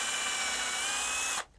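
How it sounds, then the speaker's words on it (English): A power drill bores a pilot hole through wood for a hand-built ice fishing sled, a steady high whine lasting over a second before cutting off abruptly, close and isolated. "I'm going to drill the pilot holes to help tie the sides together."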